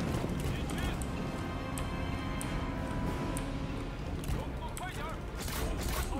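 Cavalry horses gallop during a battle in Total War: Three Kingdoms, with a dense, continuous drumming of hooves mixed into loud, busy battlefield noise.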